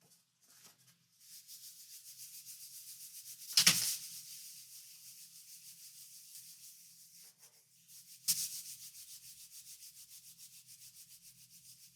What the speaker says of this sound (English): Just using my hand to rub on that card from the inside.